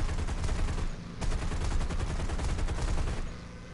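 Sustained machine gun fire from a P-39N-0 fighter aircraft in War Thunder, a dense continuous burst with a brief break partway through, loud and close with no talking over it.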